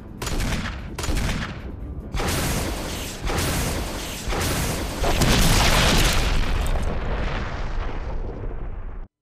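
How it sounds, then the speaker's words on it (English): Rocket launcher blasts and explosions in the final boss fight of the video game Resident Evil Remastered: a run of loud, heavy booming detonations that overlap into a sustained rumbling roar and end abruptly. "This is a classic RE ending boss rocket launcher moment."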